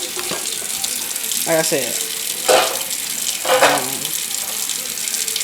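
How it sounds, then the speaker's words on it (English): Water runs steadily from a kitchen tap while chicken Alfredo is being prepared, a continuous splashing hiss with a few brief clatters and a short spoken remark over it. "Let me cut this water off. I don't know why I left that on."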